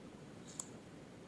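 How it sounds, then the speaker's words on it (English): A single faint, sharp mouse click stands out against quiet background hiss. "So we'll click on stop, click on run."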